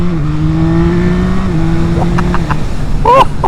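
A 2024 Yamaha MT-09 SP motorcycle's engine holds a loud, steady drone that shifts pitch with gear changes, then drops away as brief tonal squeaks appear near the end.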